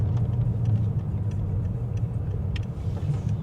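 Steady low engine rumble from a Mercedes S63 AMG with a turbo engine, heard from inside the car while it drives, a constant droning hum with faint ticks above it.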